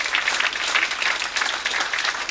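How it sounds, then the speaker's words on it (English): An audience at the reopening of Govanhill Baths bursts into dense, sustained applause, with many hands clapping together in an even roar and no voices standing out. "So I'd like to join everyone to join in a special applause for them."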